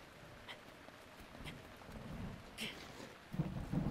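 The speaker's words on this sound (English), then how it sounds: "I forgot it was raining." Rain and rumbling thunder from the Legend of Zelda: Breath of the Wild game world, a steady wash of rainfall with low rolls of thunder swelling louder near the end.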